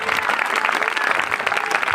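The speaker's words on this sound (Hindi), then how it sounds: "जोर से तालियां बजाएंगे, जोर से।" Loud, dense applause from a church congregation during a Hindi-language worship service fills the whole stretch, steady and close with no break.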